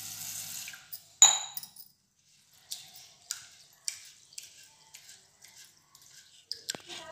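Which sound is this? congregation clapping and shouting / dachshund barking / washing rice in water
washing rice in water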